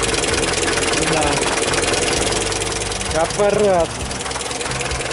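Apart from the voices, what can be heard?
GAZ 21 Volga car engine idling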